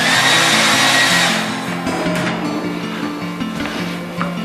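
A hair dryer whirs steadily and loudly, a broadband motor-and-air roar that eases slightly in level but keeps running throughout.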